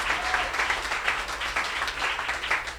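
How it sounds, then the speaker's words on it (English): An audience at a talk breaks into strong, sustained applause, a dense crowd of clapping hands at a steady level from start to finish, no voices on top. "Thank you for that applause."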